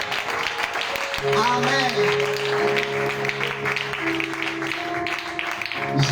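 Congregation at an evangelistic campaign service applauding and cheering, a steady wash of clapping with a sustained musical tone and a voice calling out over it.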